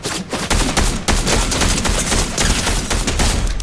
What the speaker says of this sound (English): How is your explosive rifle not killing them by now?